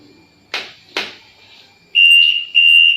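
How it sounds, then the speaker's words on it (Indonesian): The buzzer on a drowsiness detection helmet sounds in two steady, loud, high-pitched electronic beeps, separated by a short gap, after two earlier sharp clicks in a quiet room. "kita starting buzzer."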